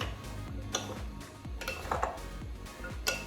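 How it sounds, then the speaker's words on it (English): Spoon knocking and scraping against a bowl while tossing a raw veggie chickpea salad: soft, regular clinks and taps at a steady stirring rhythm, close up, with no talk. "I have my beautiful bowl. I'm going to mix."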